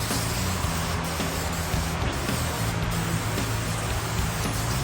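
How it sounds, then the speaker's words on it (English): Black chassis paint hisses steadily from a spray gun beneath a 1962 Dodge Lancer pro street car, a continuous close spray with no breaks. "we're going to go underneath and do some of the chassis, some of that black chassis paint on there"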